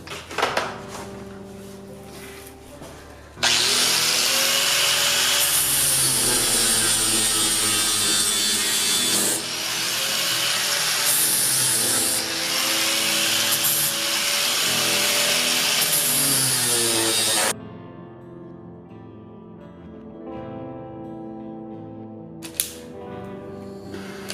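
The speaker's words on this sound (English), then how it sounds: "Gotta grind it down first." A power tool grinds down a prop Daedric axe with a saw-blade head, a loud, steady grinding whine running for about fourteen seconds after a quiet start, then cutting out to faint shop noise and a brief final burst.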